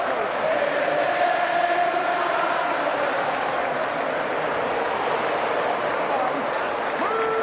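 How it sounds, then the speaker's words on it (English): Crowd at a Hull v Castleford rugby league match applauding in tribute on the 11th minute, sustained broad clapping and murmur from a large stadium audience, steady throughout with commentary voices over it. "the whole crowd are applauding on the 11th minute to mark Adam Marr's number"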